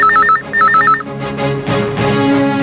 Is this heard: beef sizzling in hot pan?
no